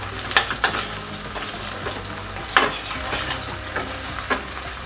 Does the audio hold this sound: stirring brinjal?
yes